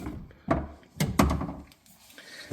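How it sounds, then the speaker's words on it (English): A breaker bar knocks into a socket on a Yamaha clutch tool, three dull heavy thunks close by, then a lighter rattle. "we're going to put in the breaker bar into the socket"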